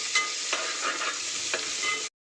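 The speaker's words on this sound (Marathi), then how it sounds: "आता टाकते याच्यात हिरवी मिरची, आलं आणि लसूण. हे सगळं परतून घेते" Green chili, ginger and garlic sauté in oil with onions, giving a steady, close hiss of frying, with a few soft stirring scrapes, before stopping abruptly.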